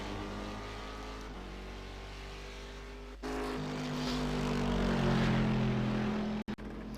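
GT3 race cars in a racing video game roar steadily around the Watkins Glen track, a continuous loud engine drone that rises partway through with shifting tones.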